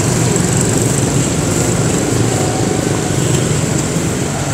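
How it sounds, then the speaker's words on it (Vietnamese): Motorbikes streaming steadily along busy Phương Sài street in Nha Trang on a morning, a loud, close, continuous engine drone and traffic rumble with no pause. "Xe máy ra vô liên tục chỗ này đông."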